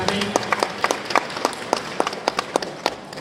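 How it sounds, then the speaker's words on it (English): An audience at a field forum in Denver claps: a run of distinct, fairly regular hand claps, close and moderately loud, with some voices underneath. "So give yourselves a round of applause for being here"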